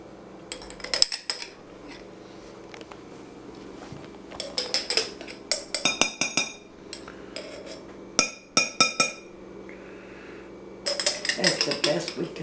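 Metal utensils clink against a bowl or glass while orange juice and baking powder are stirred for cookie dough in a home kitchen, bursts of irregular clattering and taps coming in clusters, fairly close, with pauses between.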